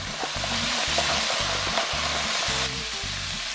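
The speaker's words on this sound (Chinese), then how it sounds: "就这样干煎，待会儿培根里会出来好多油" Bacon strips dry-fry in a pan for a bacon-wrapped asparagus starter, giving a loud, close, steady sizzle with repeated low knocking pulses as the pan is moved, and no talking.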